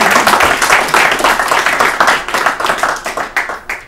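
Close, loud hand clapping from a small group greets a correct answer on an Urdu quiz programme, fast and uneven at first, then thinning into separate claps before fading.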